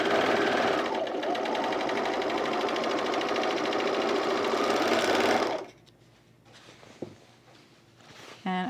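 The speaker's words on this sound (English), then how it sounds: "I think I will stitch this a little bit further right here" A sewing machine stitches a seam on a men's utility jacket, running in a loud, fast, steady whir for about five seconds before stopping abruptly, followed by quieter handling noises and a brief clack.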